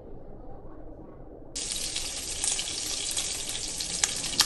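Food frying in a pan until golden brown, a faint low rumble that suddenly turns into a loud, bright, continuous sizzle with scattered crackles and pops.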